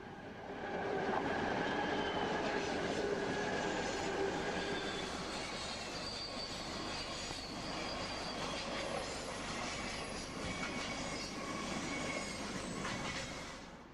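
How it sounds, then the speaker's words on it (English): A BNSF hot intermodal freight train rolls west through Index, Washington on the Stevens Pass line, a loud continuous rumble of wagons with rhythmic wheel clatter and thin squeals of wheels on rail, steady throughout. "hot intermodal train number 3 headed west through Index in the late afternoon on"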